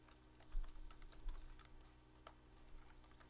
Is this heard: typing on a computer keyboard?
yes